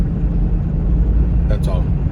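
Car driving, a steady low rumble of road and engine noise from inside the cabin, continuous and fairly loud throughout.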